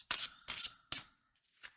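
Mixed tarot and oracle card decks are shuffled by hand, giving three crisp riffling bursts followed by a softer fourth, close and clear with no voices.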